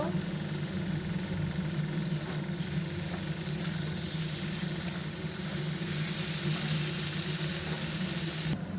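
Ginger paste with black cumin, turmeric and salt sizzles in a hot pan, a steady hissing fry with a low hum underneath, close and even with no talk.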